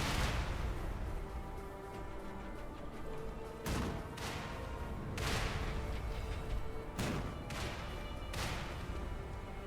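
Cannons booming on a beach in the action game Lies of P, several heavy blasts spaced a second or two apart over a continuous rumbling battle din, fairly distant.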